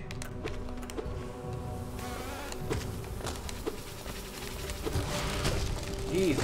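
Buzzing bees in the video game Hollow Knight: a steady insect drone under game noises and clicks, with a person talking over it throughout.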